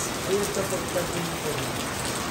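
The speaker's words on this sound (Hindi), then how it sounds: "इतनी भयंकर बारिश हो रही है ना बहुत ज़्यादा बारिश हो रही है" Heavy rain pours steadily over a home garden in a dense, continuous hiss of drops hitting surfaces, close and loud throughout with no break.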